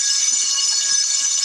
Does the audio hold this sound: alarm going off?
yes